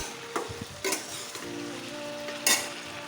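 Meat and potato pieces fry under a lid in a home pan, giving a steady soft sizzle with a few brief louder clatters of a utensil or lid near the start, middle and end, with no talking.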